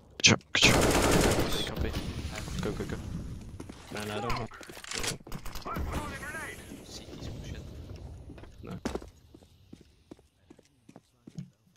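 Rapid bursts of AK rifle fire in a shooter video game, loud and close at the start, then scattered shots and clatter trailing off, with voices talking over parts of it.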